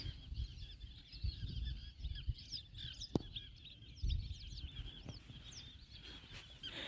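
Birds on the Narmada riverbank give faint scattered calls and honk-like cries at a distance over low rumbling background noise, with no talking.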